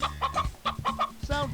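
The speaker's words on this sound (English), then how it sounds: "Plymouth Rock, Rhode Island, and New Hampshire are all breeds of chickens." Chicken clucking in bursts, a rapid run of short harmonic clucks at close range with a longer squawk near the end, no voices, played as a sound cue in the You Don't Know Jack trivia game.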